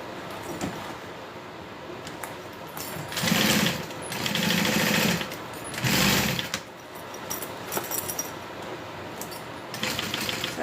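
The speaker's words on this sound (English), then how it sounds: "and now we sew." A sewing machine stitching quilted layers together, its motor whirring in three short, loud bursts of rapid stitching, separated by pauses filled with quiet handling noise.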